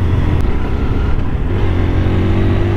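Hero Hunk 160R 4V motorcycle engine running steadily while riding, a continuous low loud drone with a smooth throttle roll-off.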